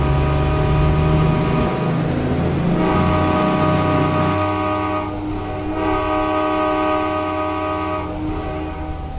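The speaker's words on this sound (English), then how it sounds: "Let's hear that train horn though." A loud, sustained multi-tone train horn on a Kenworth W900 road train in American Truck Simulator blares in long steady blasts over a low rumbling engine, with no voices.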